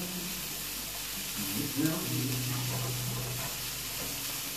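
Onions browning in a pan for beef stroganoff give a steady soft sizzle and hiss, with a short burst of stirring noise partway through and a low hum underneath; nobody speaks.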